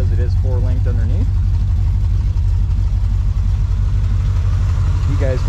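A 1968 Chevrolet C10 pickup with a 4-link rear suspension and its exhaust ending just ahead of the rear idles steadily with a deep, loud, constant rumble. It is heard up close for several seconds.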